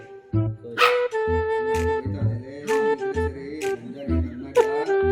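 A dog barks close by in a run of sharp, separate yips and barks, one after another with short gaps, loud and clear with no talk over it.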